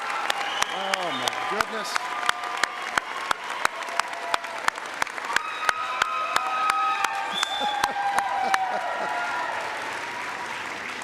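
A graduation ceremony crowd for the class of 2024 at Idaho College of Osteopathic Medicine claps and cheers loudly and continuously, with sharp clap bursts, whoops and a voice exclaiming over the din.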